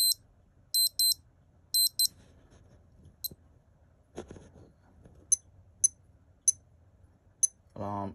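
High electronic beeps in quick double bursts, then single spaced beeps, from a 1985 Casio GMW-15 digital watch alarm, close and fairly quiet.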